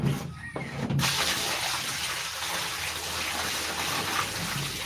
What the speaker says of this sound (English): have to pour the water.